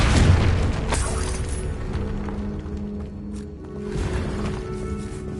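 A Confringo blasting spell explodes in Hogwarts Legacy, a deep booming burst up front that rolls off into a low rumble, with a lighter crackling flare later.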